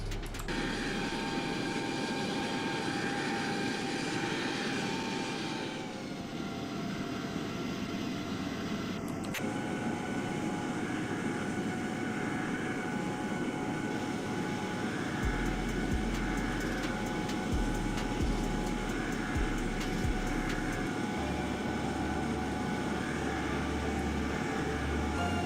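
The engine of a WestJet airliner climbs in the X-Plane 11 flight simulator game, holding a steady, continuous jet drone and whine with slight tonal shifts and no talk.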